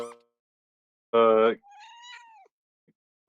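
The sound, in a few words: voice imitating angry bunny noises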